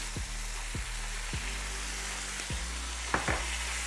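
Pork ribs chop suey with bean sprouts and soy sauce fries in a pan, giving a steady close hiss and sizzle, with a few soft low knocks and a brief crackle near the end, and no voices.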